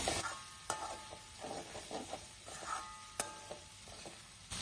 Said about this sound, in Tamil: நல்லா நீங்க நல்லா கீழே பிடிச்சி நல்லா கிளறி விடுங்க